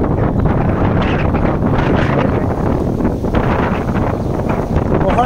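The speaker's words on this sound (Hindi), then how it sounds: "बहुत तेज हवा चलती है।" Strong wind at a cable car station in a village on Réunion, a loud continuous roar and buffeting that hits the microphone steadily throughout.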